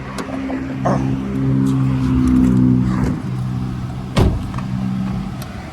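A second-generation Toyota Vios with an automatic gearbox, 15-inch wheels, stock exhaust and a remapped engine running on E20 fuel hums close by, its steady engine tone rising briefly in a gentle rev, then settling, with a sharp knock near the end.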